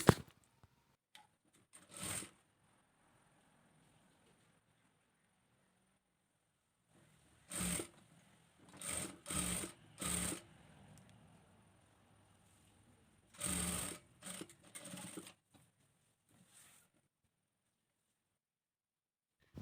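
A sewing machine runs in several short separate bursts while stitching a zipper onto a garment, close and clear, with quiet gaps between the runs.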